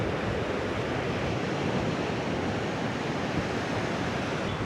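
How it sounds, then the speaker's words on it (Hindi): Strong sea waves crash against the shore at Manora Peninsula near Karachi, a continuous loud roar of surf mixed with wind buffeting, steady throughout with no voices. "और ये जो तेज़ लहरें हैं, ये भी आपके सामने है"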